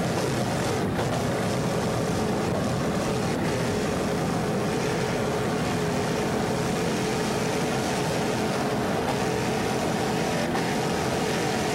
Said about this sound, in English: This Pier 57 is a 38-foot fountain powered by two 500 horsepower Vortec inboards.